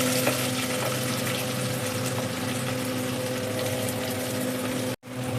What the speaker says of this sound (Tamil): நான் சோம்பு சேர்த்துக்கிறேன் கருவேப்பிலை பச்சை மிளகாய் அதிலே ஆனியன் சேர்த்துப்பேன்